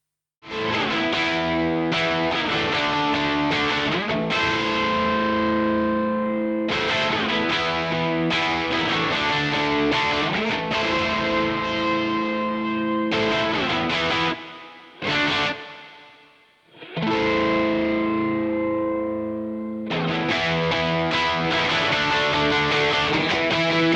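A distorted electric guitar in a mix with the clean signal lowered and the reverb automated plays loud sustained chords. Short breaks and a brief dip let the reverb tails ring out before the chords return.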